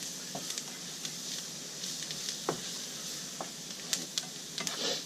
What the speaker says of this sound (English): we're going to stir it up a little bit